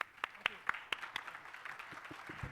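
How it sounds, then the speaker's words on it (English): Scattered clapping from an audience at a business talk event, sparse sharp claps at first, thinning into a faint patter under low background murmur. "we should all give a big standing ovation and round of applause to Sanjeev and Vikas."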